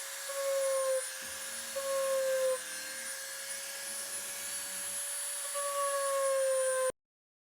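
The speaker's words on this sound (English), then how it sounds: "I'm going to round over the edges of the mouth here with the Dremel" A Dremel rotary tool grinds and rounds over the foam mouth edges of a Super Buu cosplay piece, a steady high whine running close and loud for about seven seconds, dipping briefly as the tool lifts, with a lower motor hum in the middle.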